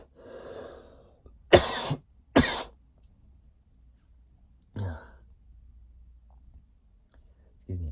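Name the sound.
coughing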